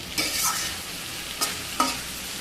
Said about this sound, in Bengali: এটাকে বেশ ভালো করে নেড়ে চেড়ে মিশিয়ে ঢাকা দিয়ে দিতে হবে